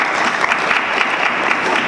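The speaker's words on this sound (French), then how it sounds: "Acclamons la parole du Seigneur" A church congregation claps together in warm, dense applause, a short continuous burst of many hands filling the room at moderate loudness.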